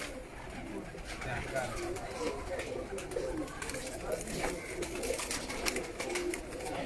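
Pigeons kept by a fancier on a rooftop coo steadily under a loud, busy background of a voice and recitation throughout.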